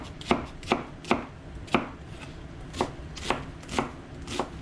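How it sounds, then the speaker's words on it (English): A knife rough-chops half an onion on a cutting board, about ten crisp, sharp strikes in an uneven rhythm, close and clear with quiet gaps between them and no talking. "take this onion, half an onion, and just cut it up a little bit"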